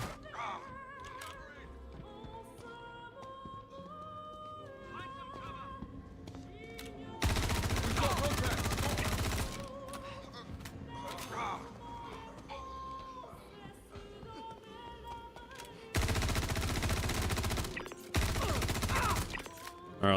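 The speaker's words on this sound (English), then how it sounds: "Suppressing fire!" Suppressing gunfire in Star Citizen, two sustained loud bursts of rapid automatic fire lasting a few seconds each, separated by quieter passages with music and a voice talking.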